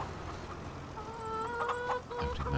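Chickens in the farming video game Farming Simulator 25 cluck softly in a short burst, a few low clucks and a drawn-out call, quiet with no talking.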